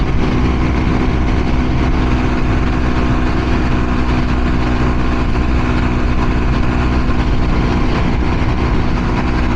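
A Honda Trail 125 motorcycle fitted with an added oil cooler drones steadily at highway speed as the rider backs off the throttle for an exit, a continuous low engine hum blended with heavy wind rush and no talk.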